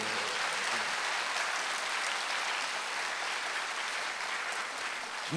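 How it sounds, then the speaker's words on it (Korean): A church congregation claps during a Sunday worship service, a steady wash of many hands clapping together, even and continuous with no voices over it. "박수 세게 치세요."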